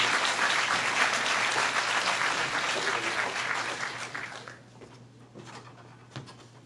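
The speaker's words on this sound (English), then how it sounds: "Give him a big round of applause." Audience applause for a speaker at the start of his third year, a dense steady clapping that fades out after about four seconds, leaving faint scattered claps and room noise.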